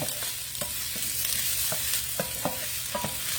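Spinach wilting down in a large pan on the stove, giving a steady broadband sizzle with soft clinks and scrapes of stirring at irregular intervals, close and continuous with no talk.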